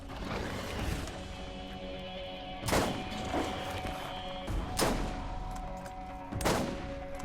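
Sniper rifle fire in the video game Borderlands: four loud, sharp gunshots spaced a second or more apart, each with a short ringing tail, over steady in-game ambience and music.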